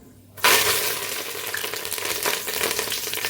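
Dried red chillies and curry leaves hit hot oil for a tempering: a sudden loud burst of sizzling that settles into a steady, crackling fry, close up with no voices.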